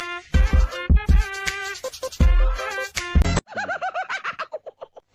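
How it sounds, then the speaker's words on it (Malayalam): A myna bird in a house yard calls loudly and close, giving a burst of varied harmonic notes followed by a rapid series of short repeated calls that fade out. "നോക്കൂ മുറ്റത്തൊരു മൈന"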